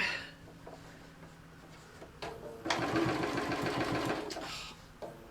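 A sewing machine stitches a Christmas bauble hot pad in a quiet room, starting with a few short runs and then a steady, close, continuous whirring burst before it stops.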